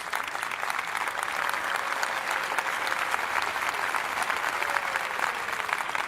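A church congregation claps warmly for a family celebrating a daughter's doctoral graduation with honors, sustained even applause filling the room throughout, with a faint tone lingering underneath.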